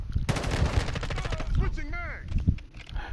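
Rapid automatic gunfire from Call of Duty: Modern Warfare II multiplayer, dense bursts through the first half, then sparser shots with a player talking and exclaiming over the game sound.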